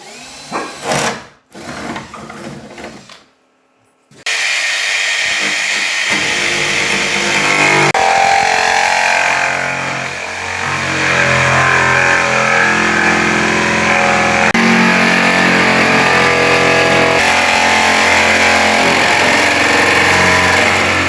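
Power tool cutting through a fiberglass camper shell cap for a Jeep Gladiator, a loud, steady grinding whine running continuously after a few brief bursts and a short pause at the start.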